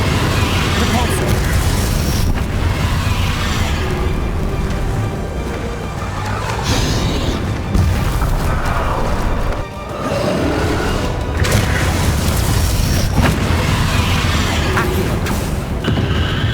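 The Depulso force spell fires in Hogwarts Legacy during a boss fight against Ranrock, heard as loud, dense booming blasts and roaring rumble over a continuous wall of game noise, with someone talking over it.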